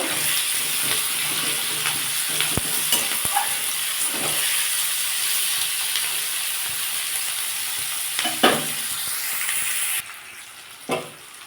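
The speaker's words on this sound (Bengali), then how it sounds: "এই পেঁয়াজ আর টমেটোটা ভালো করে ভেজে নেব" Onion and tomato fry in a pan for a spiny gourd and lentil dish, giving a steady close sizzle throughout with a few clinks and stirring scrapes near the end.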